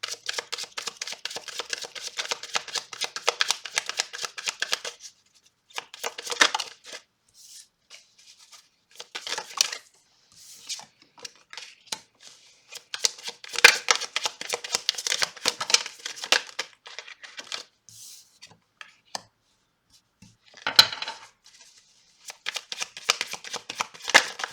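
Oracle cards shuffled by hand in repeated bursts of crisp riffling and flicking, close and fairly quiet, with short pauses between runs and no talking.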